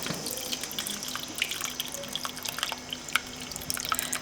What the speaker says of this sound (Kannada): ಈ ರೀತಿ ಹುಣಸೆ ಹಣ್ಣನ್ನು ಕಿವುಚ್ಬಿಟ್ಟು ಇದರ ರಸನ ಹಾಕ್ತಾಯಿದ್ದೀನಿ.